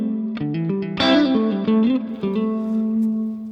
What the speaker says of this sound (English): when you want some reverb, a very good reverb